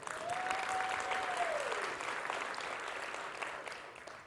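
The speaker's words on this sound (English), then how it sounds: "let's give them a round of applause" Steady, full audience applause at a startup accelerator demo day in Atlanta, with many hands clapping at an even level. A faint sustained tone glides downward early on, and the clapping eases slightly toward the end.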